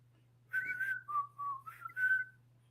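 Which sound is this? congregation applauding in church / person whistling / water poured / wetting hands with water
person whistling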